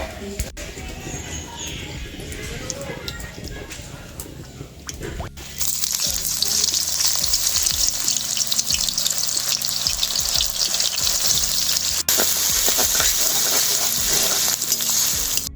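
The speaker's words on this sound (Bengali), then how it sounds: "ওর মধ্যে এবার কিছু তেল দিয়ে বেরেস্তা ভেজে নেব।" Onions frying in hot oil in a wok to make beresta for a chicken and lentil dish, a dense sizzle that swells louder about halfway through as more onion hits the oil, with scraping stirs throughout.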